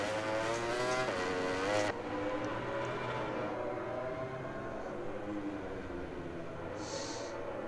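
Ducati motorcycle engine screaming around the COTA circuit in a racing video game, a loud sustained high-revving whine that drops sharply as it shifts and then climbs steadily again, running continuously.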